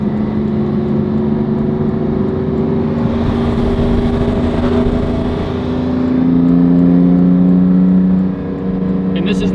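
Supercars driving on a closed highway during a rally, engines droning loudly and steadily from inside a car with rising revs, while people talk over the engine noise.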